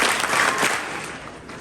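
An audience at a high school candidate speech event claps after a speech, a burst of applause that starts full and loud and slowly fades.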